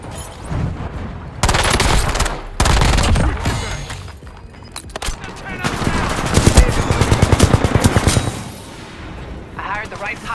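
Dense video game battle audio from a Battlefield 6 action scene, with loud bursts of machine gun fire, sharp rapid rattling volleys and heavy impacts layered over chaotic combat noise, close and continuous for about ten seconds.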